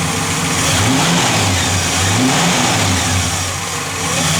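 A 1966 Buick Skylark with a factory 2-barrel carburetor runs close by, its engine revving up and settling back in repeated swells over a steady, loud idle, with no voices.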